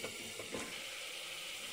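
Local chicken with spices sizzling and frying in a hot pan, a soft steady hiss with faint stirring scrapes, quiet and close.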